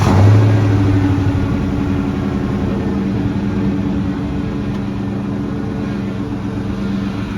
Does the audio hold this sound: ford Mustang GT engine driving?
yes